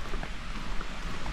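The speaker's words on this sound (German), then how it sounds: "Und da plätschert es schon." Stream splashing near a waterfall in the French countryside, a continuous broadband rush of running water, close and steady with no talk.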